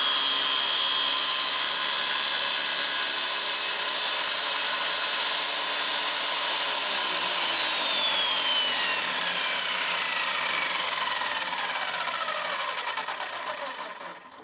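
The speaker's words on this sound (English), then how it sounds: "on this skill saw, I have a Diablo Steel Demon blade. It's a carbide tipped blade specifically for steel" A Diablo Steel Demon carbide-tipped blade on a circular skill saw cuts through aluminum, a sustained loud, high whining grind with shifting pitch that runs the full length and tapers off at the end, with no talk.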